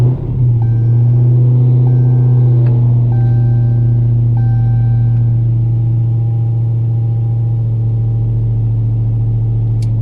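A supercharged 1000 hp Hellcat running E85 fires up cold after sitting for a while, settling straight into a loud, deep, steady idle with a faint whine over the rumble, close by and with no talking.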